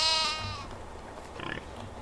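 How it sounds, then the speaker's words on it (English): A goat in the medieval farming game Medieval Dynasty gives one faint bleat at the start, followed by quiet low background ambience with a soft animal murmur. "That is a goat."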